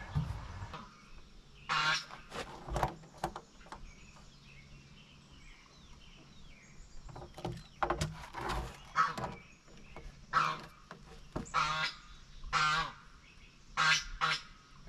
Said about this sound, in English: Goose never stops talking, unless her mouth's full, but even then, she still tries.